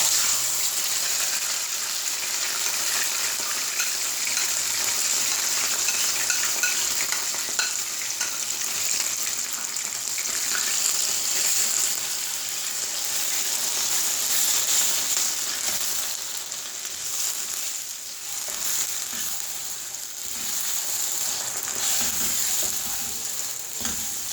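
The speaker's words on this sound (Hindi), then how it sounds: "इसको तकरीबन 10 मिनट हो गए मुझे भूनते हुए।" Soaked semolina sizzles and roasts in browned melted sugar syrup for Makhandi halwa, a continuous close frying hiss with occasional stirring scrapes and no talk.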